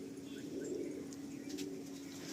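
Khatasi pigeons cooing softly in a pigeon loft, a steady low murmur of coos running continuously through the whole stretch with faint higher chirps scattered above.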